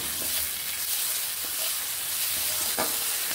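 Tomatoes and garlic frying in a pan while being stirred, a steady close sizzle with soft scraping and a few brief clicks of the spoon.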